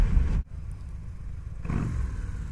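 A 2015 Victory Gunner cruiser motorcycle engine idles and blips with a low, throbbing rumble. A brief dip is followed by a swelling rev near the end, close and moderately loud.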